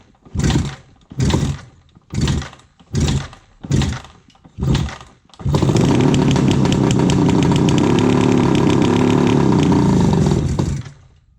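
A cold 1976 Suzuki GT750 two-stroke triple struggles to start: six loud separate cranking bursts, then it catches and runs roughly and loudly for about five seconds before cutting out.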